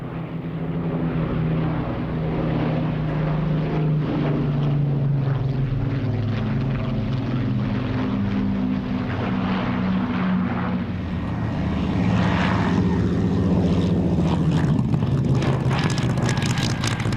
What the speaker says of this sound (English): Memorial Flight's display ends with the spine-tingling formation flypast. Spitfire on the Lancaster's right wing,